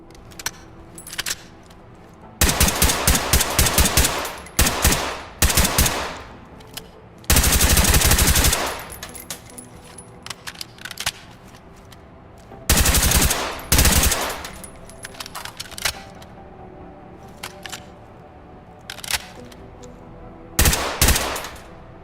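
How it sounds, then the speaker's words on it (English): Suppressed LVAR assault rifle chambered in 300 Blackout with an integral suppressor, fired in the Ready or Not video game: several loud bursts of rapid automatic fire separated by pauses, with metallic handling clicks between strings. "the new LVAR, or the Low Visibility Assault Rifle, one of the very few rifles in Ready or Not that is chambered in 300 Blackout"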